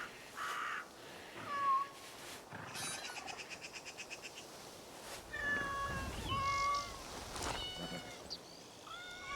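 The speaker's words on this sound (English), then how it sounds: "It's kitties." A cat meows repeatedly in Assassin's Creed Shadows, several short high calls spread across a game scene with crow-like caws and ambient sounds, fairly quiet overall.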